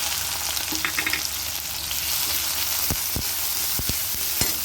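Chopped green chilies and onion fry in hot oil in a pan, a steady close sizzling hiss with a few sharp clicks of a spatula against the pan.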